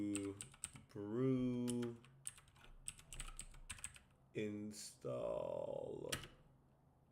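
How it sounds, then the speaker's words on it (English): Keys clatter in quick, irregular bursts on a Mac computer keyboard, fairly close and quiet, interleaved with someone speaking as she types out code. "I sometimes like typing out these codes because it helps me actually understand what's happening."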